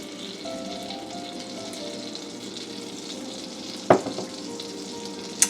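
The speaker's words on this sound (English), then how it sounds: "So we're going to add our butter into the pan, along with our quarter cup of oil" Butter and a quarter cup of oil sizzling in a pan as the fat for a roux for étouffée, a steady close-up frying hiss with one sharp clink partway through and a light tap near the end.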